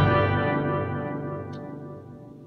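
A sustained church organ chord with the organ's reverb effect at half setting swells with heavy reverberation and a slightly distorted, chorused tone, slowly fading as the echoes linger.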